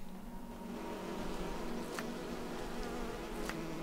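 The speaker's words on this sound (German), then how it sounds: "Sind das Zutaten? Bienen," Bees buzz in Skyrim Legendary Edition with a dense, continuous insect drone that stays even throughout. Two short, faint ticks sound over the drone.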